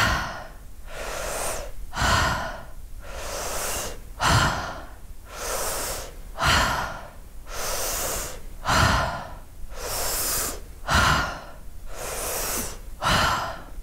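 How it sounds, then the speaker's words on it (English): Deep yoga breathing repeats steadily, full noisy inhales and forceful exhales in a regular rhythm, close and breathy, about a dozen cycles with no talk. "So it's deep inhales in, continue breathing."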